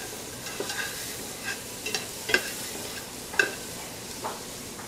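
Onions and garlic fry in oil with a continuous close sizzle, while occasional soft clicks and scrapes of stirring rise above it.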